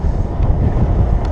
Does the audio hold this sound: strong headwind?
yes